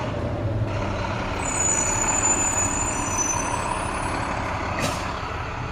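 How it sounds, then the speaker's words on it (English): A school bus passes close by with a steady diesel rumble, and a sharp hiss of air brakes is released near the end. "got the school bus."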